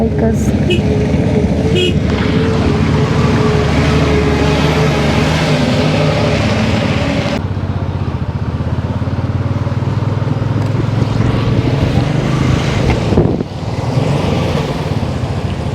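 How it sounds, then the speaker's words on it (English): Heavy traffic on a mountain road toward Manali, with continuous engine noise from cars and motorcycles and occasional horn toots, heard close from a bike in a steady loud wash that shifts in tone partway through. "here looks like for bike also we have to wait. Heavy traffic."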